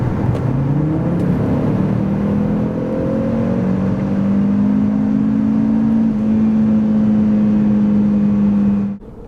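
A 2024 Cupra Formentor VZ5 2.5 TSI engine accelerating hard from 90 to 140 km/h, its pitch climbing steadily through the gears in a loud, continuous roar, heard from inside, with no one talking.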